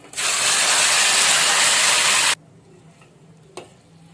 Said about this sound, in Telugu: మనం ముందుగా రెడీ చేసుకున్న ఈ క్యాబేజీ పప్పుని ఇందులో వేసుకుంటున్నాం.